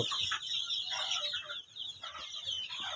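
Fayoumi chickens on a poultry farm in Taraganj, Rangpur cluck and squawk in a busy, continuous chorus, several birds calling close by in overlapping bursts.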